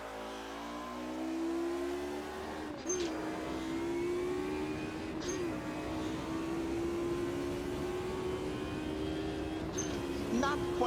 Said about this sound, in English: The engine, for my personal taste, doesn't sound quite as aggressive as it did in AC